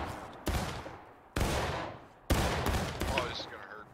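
Musket volleys in the Civil War video game War of Rights: three loud, sharp massed blasts about a second apart, each trailing off in a rolling echo, with faint distant shots between.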